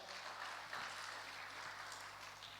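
Church congregation clapping at a Christmas Eve worship service, a dense, steady wash of applause from a crowd that carries on evenly throughout, moderately distant with a faint hum beneath.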